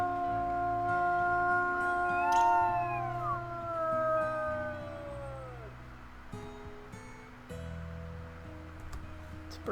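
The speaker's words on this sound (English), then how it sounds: "Maybe do one more howl." A wolf in the video game WolfQuest howls in several long, sliding, overlapping tones that rise and fall over a few seconds, set against low background game music and ambience.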